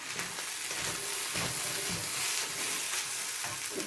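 Tuna fried rice sizzles steadily in a hot wok on medium heat while a spatula stirs and scrapes it, giving a continuous crackling fry with soft scraping bursts, close and fairly loud.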